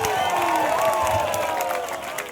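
Crowd at a political rally in a packed gathering, loud continuous cheering and shouting with some clapping mixed in, sustained for the whole stretch with a slight fade near the end.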